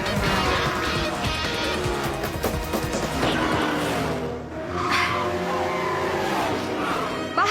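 Two race cars speed side by side near the end of a race with two laps left, engines roaring loudly and continuously, with tires squealing and skidding throughout.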